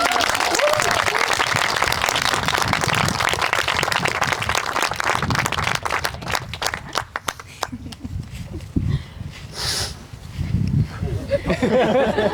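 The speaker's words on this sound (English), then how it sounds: "what about a huge round of applause for that stunning" Wedding ceremony guests burst into loud, thick applause that fills the room, then thins out and fades as people start talking.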